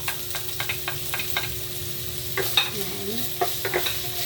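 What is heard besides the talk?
ginger sautéing in hot oil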